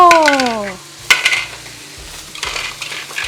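Scrambled eggs with tomatoes stir-fry in a pan with a steady low sizzle, sharp clinks and scrapes of a utensil against the pan, and a brief tonal squeak at the start.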